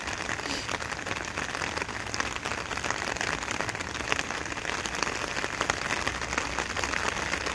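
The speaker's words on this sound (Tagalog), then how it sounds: "Oh, it's raining." Steady rain patters on surfaces outdoors, a continuous even hiss of drops throughout with no speech.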